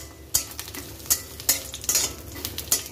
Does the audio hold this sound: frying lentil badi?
yes